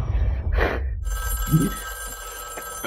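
Telephone ringing during a Fortnite in-game event, a short bright ring burst followed by quieter ambient tones and a faint low thump; no talking.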